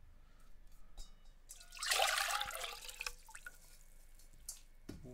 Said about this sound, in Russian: давайте попробуем еще раз налить воду, например, в чашу номер 20